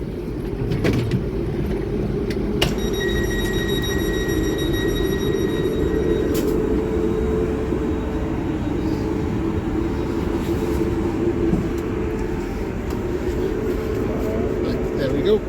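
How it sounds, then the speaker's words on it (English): A GWR train pulls out of Axminster station, heard from inside as a steady low rumble and running noise, with a brief tonal whine and a few clicks early on before the rolling sound settles. "We're now on the first train of the day."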